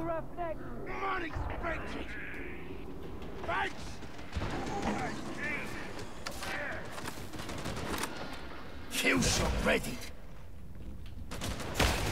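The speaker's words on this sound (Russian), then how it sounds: "мне кажется, кто-то стреляет" Scattered gunshots from an unseen shooter in Darktide, sharp cracks and bursts spread through a busy mix of combat noise, with voices talking over it.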